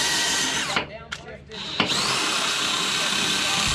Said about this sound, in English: give everybody a quick glimpse of the drill we're using as recommended. It's the DCD991